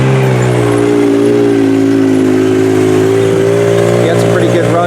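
Yamaha YXZ race machine heading out on a speedway track for a test session, its engine holding a loud, close, sustained drone with a slowly rising pitch, a voice talking faintly underneath.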